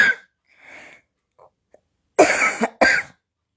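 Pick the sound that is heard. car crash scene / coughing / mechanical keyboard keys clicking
coughing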